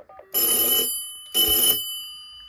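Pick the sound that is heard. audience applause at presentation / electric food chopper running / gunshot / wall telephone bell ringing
wall telephone bell ringing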